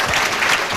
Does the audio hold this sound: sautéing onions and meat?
no